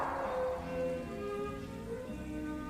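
Steady rain patters in the background beneath soft, sustained musical tones, a continuous wash of drops with no voices.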